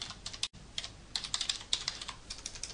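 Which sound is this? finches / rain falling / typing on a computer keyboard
typing on a computer keyboard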